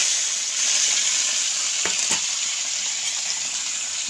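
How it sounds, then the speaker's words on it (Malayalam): Chopped vegetables frying in hot oil with mustard seeds and curry leaves give off a loud, constant close sizzle, with a couple of brief scraping stirs partway through. "എണ്ണയും ചൂടായി കഴിഞ്ഞപ്പോൾ കുറച്ച് കടുക് ഇട്ടു രണ്ട് കറിവേപ്പില ഇട്ടു പിന്നെ നമ്മൾ അരിഞ്ഞ് വെച്ചിരിക്കുന്നതൊക്കെ എണ്ണയിലോട്ട് ഇട്ട് കൊടുത്തു"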